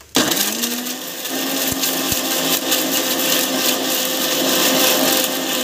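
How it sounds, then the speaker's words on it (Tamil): An electric mixer grinder blending tomatoes starts up abruptly and whirs loudly and continuously, blending with a steady high-pitched mechanical roar. "மிக்ஸியில் போட்டு அரைச்சிக்கலாம்"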